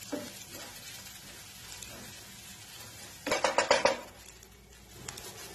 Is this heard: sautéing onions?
yes